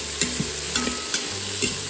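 Chopped carrots and red mini peppers being stirred in a pot for winter tomato soup, a steady close sizzle with several quick scraping spoon strokes and a low hum underneath.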